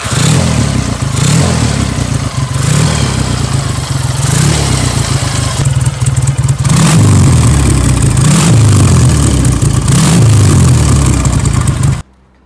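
A 1953 BSA 650 Golden Flash motorcycle with a parallel-twin engine, revving repeatedly from a loud idle, each blip rising and falling in pitch, close and alone with no talk.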